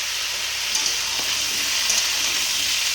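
Ridge gourd and potato pieces frying in hot oil tempered with cumin seeds: a steady, close, hissing sizzle with faint stirring scrapes and no talk.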